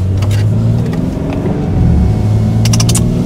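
BMW G80 M3 engine droning loud and close from inside the car during manual gear shifts, with a deep steady hum, slight rises in revs and brief mechanical clicks near the end.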